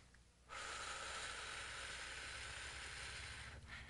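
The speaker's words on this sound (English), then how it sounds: "Let's exhale." A long, forceful exhale through the mouth during a body flex breathing exercise, a steady breathy rush close to the microphone that starts abruptly and holds for about three seconds before tapering.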